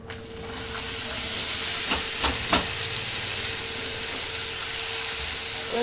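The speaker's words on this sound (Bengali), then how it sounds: "এই যে আমার সেই কেটে রাখা সবজি এগুলো আমি তেলের পরে সব দিয়ে দেবো" Chopped vegetables hit hot oil in a kadai and break into a loud, steady sizzle, a bright frying hiss that holds close and constant after a few brief clatters near the start.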